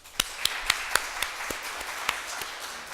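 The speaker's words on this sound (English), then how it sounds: "Let's give them a round of applause" At a startup pitch day, an audience claps for the finalists: a fairly faint, thin round of applause where a few distinct, separate claps stand out at an uneven rhythm over a soft background wash.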